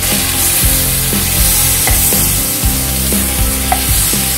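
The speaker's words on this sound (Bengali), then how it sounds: "তো এখানে আমি মাছটা খুব কড়া ভাজছি না, হালকা লাল করে দুটো পিঠ আমি এখানে ভেজে নিচ্ছি" Pieces of hilsa fish shallow-fry in hot oil, turned to lightly brown both sides, giving a loud, continuous sizzle with scattered sharp crackles and pops throughout, with no talking.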